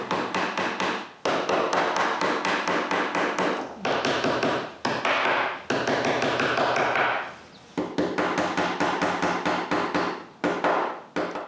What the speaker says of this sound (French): il faut juste pousser les strip locks femelles en place